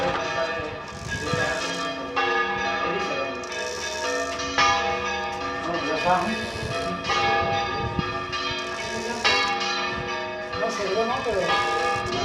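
Church bells of Santa María ring in a bell concert, swinging in unison with alternating peals, giving repeated loud strikes and overlapping sustained ringing while people talk nearby.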